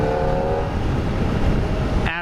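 A 2023 Kawasaki ZX-4RR motorcycle engine screams at high revs near its 16,000 RPM redline, loud and steady and close up, then cuts to a sharper rising whine in the final moment.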